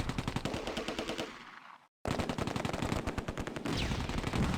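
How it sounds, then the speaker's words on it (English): Rapid machine gun fire and tank fire in Close Combat: A Bridge Too Far, a WWII game, sounding as dense, loud, continuous bursts that break for a moment of silence and then resume. "The tank fires and misses. Intense fire in both directions."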